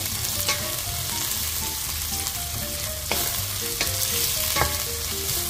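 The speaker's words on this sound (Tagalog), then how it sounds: "Hanggang sa maghiwa-hiwalay ang sibuyas at magkulay brown na siya." Onions sauté in a hot pan for a Filipino bottle gourd and sardine dish, with a continuous loud sizzle broken by a few sharp scrapes and clinks from stirring. No one speaks.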